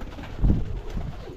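Pigeons cooing close by in a breeding setup, a short, soft, low throaty burst that swells briefly and fades into quieter murmuring.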